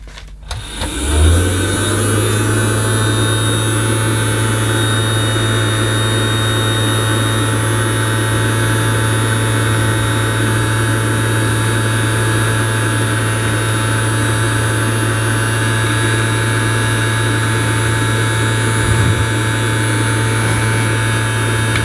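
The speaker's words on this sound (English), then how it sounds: "pick them up, hopefully using the vacuum cleaner." A steady, loud motorized whir with a low hum starts after a brief click and runs unbroken to the end, from a Bosch Ergo Max Professional toy vacuum cleaner by Theo Klein.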